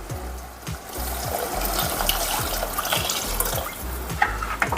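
Water from a glass poured into urad dal and rice for Pahadi-style khichdi in a cooking pot, a steady splashing pour running throughout, fairly close, with no talk over it.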